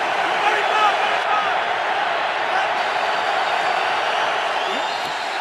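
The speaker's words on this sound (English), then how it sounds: "This crowd has been re-energized." Stadium crowd at an NFL game, Chiefs at Steelers, a steady dense roar of cheering voices that holds loud and unbroken throughout.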